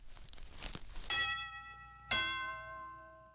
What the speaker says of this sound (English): But looked back once more at the sound of the doorbell.